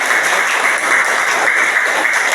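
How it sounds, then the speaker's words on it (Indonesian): A classroom of pupils clapping together after a presentation, a bright, dense, continuous patter of many hands at close range, steady for the whole stretch with no speech. "Tepuk tangan bersama-sama, tepuk tangan."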